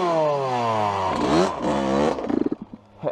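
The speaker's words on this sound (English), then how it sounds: "this is a Kawasaki 85 and this is a Suzuki RM85" Two 85cc motocross bikes, a Kawasaki 85 and a Suzuki RM85, rev loudly up close, engines rising and falling through several throttle blips before settling into sputtering idle pops.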